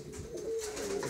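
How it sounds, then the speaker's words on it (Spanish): A thief pigeon coos close by in a loft in Almonte, a low, steady, throaty coo held through the moment with faint bird chatter behind it. "Este palomito ha salido bastante bueno, que está ahí arrullando de la hermana."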